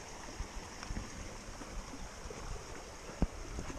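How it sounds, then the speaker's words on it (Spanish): A mountain stream channel in the Sierra de Espadán's Barranco de Almanzor flows with a steady, faint rushing trickle and a few soft knocks, heard alone without talk. "Y el cauce del agua que lo tenemos circulando por aquí."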